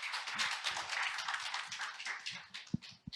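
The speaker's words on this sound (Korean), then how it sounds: "큰 박수 부탁드리겠습니다" Dense applause from a conference audience after a fintech presentation, steady rapid clapping throughout with a few louder individual claps near the end.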